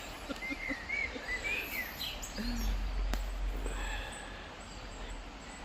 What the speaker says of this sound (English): With all the birdies chirping.